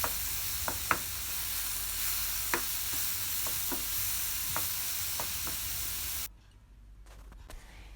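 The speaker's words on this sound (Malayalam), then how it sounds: "നമുക്കൊന്ന് വഴറ്റിയെടുക്കാം" Banana filling sautéing in a pan, a soft steady sizzle with scattered light clicks of a spoon against the pan, cutting off abruptly to near silence near the end.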